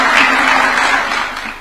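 A roomful of people at a State House gathering applauds a football goalkeeper, loud dense clapping close by that fades slightly toward the end.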